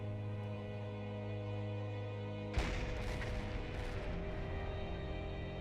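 A submarine deck gun in Silent Hunter 4 fires once: a sudden heavy boom that cuts across a steady engine drone, followed by a lingering rumbling wash of noise.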